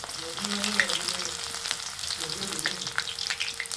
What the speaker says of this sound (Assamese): তেল গৰম হৈ গৈছে, এতিয়া আমি ইয়াত দিম নহৰু আৰু আদা